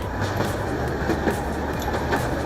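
A toy train runs in a children's park powered by biogas electricity, giving a steady, continuous rolling rumble with faint rhythmic clatter, close and even throughout with no talk.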